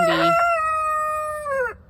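A backyard Orpington or Salmon Faverolles rooster crows once nearby, a short rough opening followed by a long, clear, sustained note that falls away at the end.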